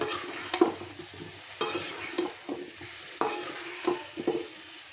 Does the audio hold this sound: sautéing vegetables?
yes